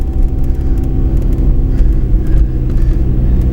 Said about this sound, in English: This is another good one, driving in deep snow. You want to be into second gear here.